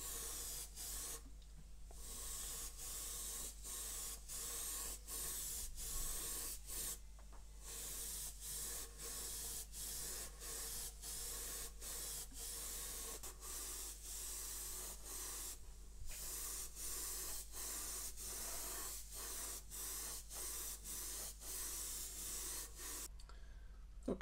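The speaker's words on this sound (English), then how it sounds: "This is Tamiya's lacquer range, and it's the gloss clear coat. So I just want a very light coat of this," Tamiya lacquer gloss clear coat is sprayed onto a Revell 1/144 Flower Class Corvette model in a long continuous hiss. Short pauses break the spray and it resumes each time, close and steady with no talking.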